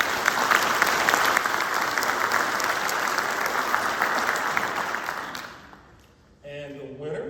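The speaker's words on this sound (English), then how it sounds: "Give them a round of applause." Audience applause for award nominees at a 2023 ceremony, a dense, steady wash of many hands clapping for about five seconds before fading out, followed by a brief voice.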